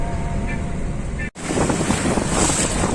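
Surf and ocean waves wash onto a busy beach at Hendaye, a steady roar of water blended with heavy wind buffeting the microphone, briefly cutting out mid-clip before the rush resumes.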